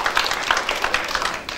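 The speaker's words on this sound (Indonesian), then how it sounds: "Boleh tepuk tangan Pak" A church congregation claps during a sermon, a short, dense burst of many hands applauding nearby that tapers off after about a second and a half.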